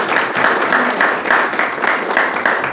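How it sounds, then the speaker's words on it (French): Steady applause from an audience at a women's rights event, dense continuous clapping holding even loudness throughout without pause. "Et je vous demande de les applaudir"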